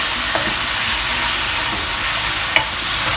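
Pork frying with a little oil in a non-stick pan, a steady close broadband sizzle with occasional small pops and spatters throughout, no voices.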